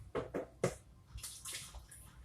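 Juice from a slow cooker of Tuscan chicken poured out and discarded, a faint, brief splashing pour with a few quick spurts followed by a thin trickling hiss, close and quiet.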